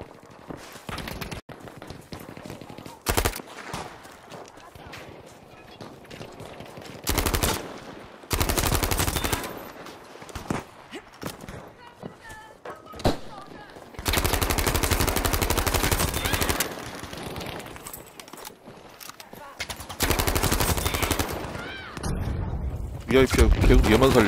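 Gunfire in the video game Battlefield 5 during a team deathmatch: sharp single shots and long, loud bursts of automatic fire scattered through the clip, close and dominant, with a player talking between the volleys.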